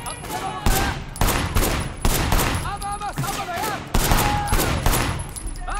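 Rapid bursts of gunfire crack out in a Sleeping Dogs shootout, several loud volleys and fusillades repeating in close succession with brief gaps, while a voice speaks faintly underneath.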